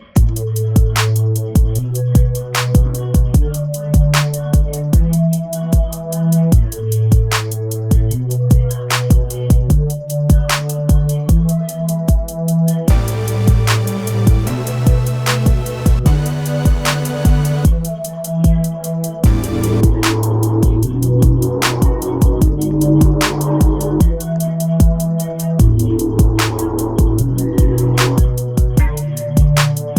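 A programmed electronic beat loops steadily, with crisp percussive hits over repeating bass and synth notes and a brief busier section in the middle.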